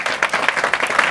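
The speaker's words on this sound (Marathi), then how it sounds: "त्यांच्यासाठी टाळ्या वाजवा सर्वांनी." Audience applause at a Marathi gathering, a dense burst of hand clapping from a crowd lasting about a second, steady and fairly loud with no talking.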